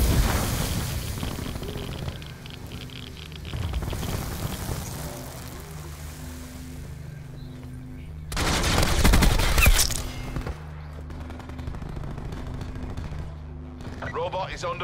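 Video game gunfire in a fast online shooter: bursts of rapid shots crack through a busy mix of game sound, with one loud cluster in the middle and talk alongside.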